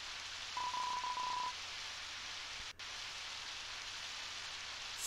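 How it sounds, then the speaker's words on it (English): Rain falls in the video game Undertale as a faint, steady hiss throughout, with a short electronic beep near the start and a brief dropout midway. "I mean, it's still raining."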